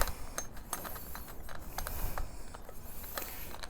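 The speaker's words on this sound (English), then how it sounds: "Just put my screw in there." A screw being worked into a metal tripod bracket, giving soft, fast mechanical ticking and scraping clicks under a steady low background hiss, faint and close.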